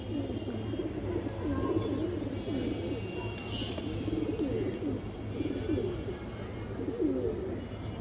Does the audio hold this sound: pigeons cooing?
yes